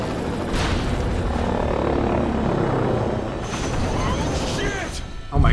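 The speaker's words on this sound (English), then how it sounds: "Say goodbye to that helicopter." A helicopter's rotor chop and engine roar in the video game Prototype 2 fill the scene with steady mechanical noise, then a sharp boom hits at the very end.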